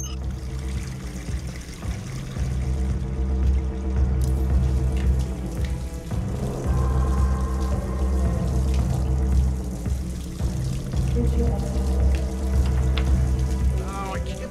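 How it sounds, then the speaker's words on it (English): A faucet runs in a bathroom in the Hitman game, a steady splashing stream of water beneath layered music and ambient game sounds. "Turn on the faucet to attract the bodyguard."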